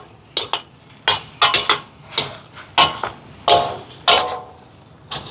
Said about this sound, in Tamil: இப்போ இது ரெண்டையும் சேர்த்து எல்லாத்தையும் இந்த மாதிரி கிளறி விடுவோம்